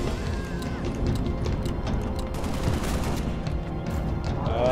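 Rapid gunfire in the video game Halo: Reach, dense overlapping bursts of shots crackling continuously at close range without a break, with a voice briefly heard amid the shooting.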